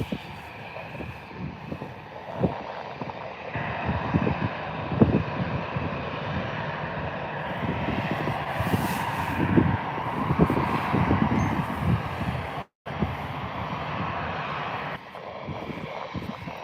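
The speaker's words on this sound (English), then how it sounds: "Next departure is just heading down a taxiway." A jet taxiing along a taxiway at Birmingham Airport gives a steady, moderately loud engine rumble and whine mixed with wind buffeting on the microphone, continuous for over fifteen seconds with one brief dropout.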